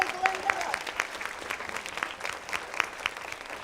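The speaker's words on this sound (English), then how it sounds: "Let's give her a big round of applause." Enthusiastic audience applause at a youth conference, dense clapping with a few cheers and whoops on top, with voices mixed in under the noise.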